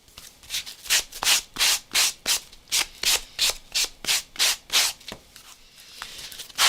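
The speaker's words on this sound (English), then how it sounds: "blending that edge down, smoothing that edge down a little bit" Rhythmic back-and-forth rubbing of a sanding sponge, about a dozen even, brisk strokes, close and steady with no talking.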